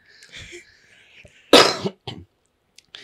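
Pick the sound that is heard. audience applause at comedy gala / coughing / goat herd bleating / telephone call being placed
coughing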